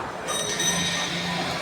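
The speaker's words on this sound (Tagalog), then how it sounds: "Ay, yung train! Train!" A passing train with wheels squealing on the rails, heard as a steady broad rumble and hiss with high screeching tones over a short stretch, fairly close and continuous.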